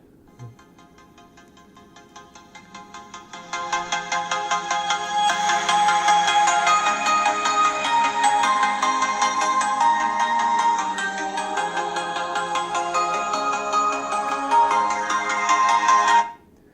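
A bright melodic ringtone plays from a Google Pixel 3 XL smartphone's speakers, starting softer and building louder, looping steadily for several seconds before stopping abruptly.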